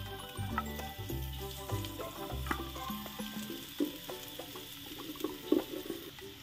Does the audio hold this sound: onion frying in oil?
yes